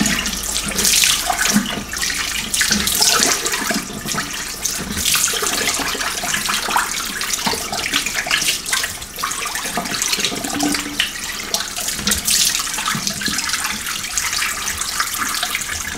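Cold water runs steadily and loudly from a tap, a continuous close hiss and splash with no talking, as a paintbrush is rinsed.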